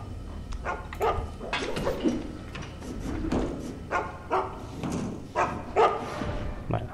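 A dog in Mark of the Ninja barks repeatedly in short bursts over steady game ambience, moderately close.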